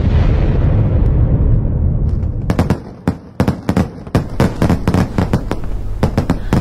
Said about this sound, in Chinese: 是烟花哎